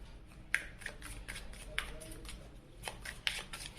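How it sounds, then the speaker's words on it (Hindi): Tarot cards being shuffled during a reading, with a few soft riffling bursts and light card taps spread through quiet, close-up handling. "तो चलिए कार्ड शफल करते हैं।"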